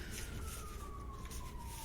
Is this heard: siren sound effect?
yes